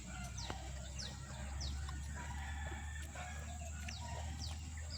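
Chickens cluck faintly in a farmyard, with short scattered calls over a steady low hum and background noise, distant and quiet.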